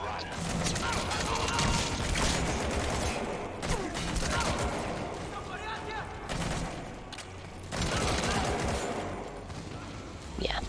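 Dense, sustained gunfire in the video game Metal Gear Solid V: The Phantom Pain, with loud continuous bursts and volleys of shots and explosions throughout and only brief dips in intensity.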